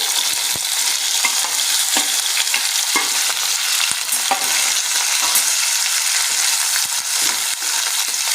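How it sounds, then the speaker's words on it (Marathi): Chopped mixed vegetables and curry leaves sauté in a hot pan, giving a steady close sizzle broken up by repeated scraping stirs of a spoon against the metal, with no one speaking. "यांना चांगलं परतून घेऊया"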